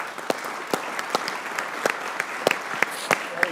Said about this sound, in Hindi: लेकिन ऑफ कोर्स आई फील यार अहमद भाई के लिए तालियां यार।